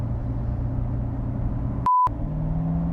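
A Corvette Stingray engine rumbles low and steady up close, briefly interrupted by a sharp electronic beep tone before the deep idle rumble resumes, no talking.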